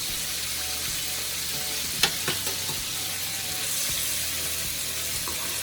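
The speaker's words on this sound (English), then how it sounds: "I want this to kind of fry hard" Chicken frying hard in hot oil, a steady dense sizzle throughout with a few brief clicks and pops, close and fairly loud, no talking.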